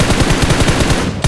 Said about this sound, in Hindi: आगे की साइड से मेरे को एक बोट और फायर करता है